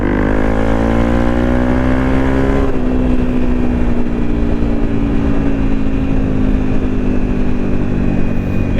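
A Honda CRF 250 Rally motorcycle engine drones at steady revs, then drops a gear and pulls away with a lower, rougher throbbing, loud and close throughout.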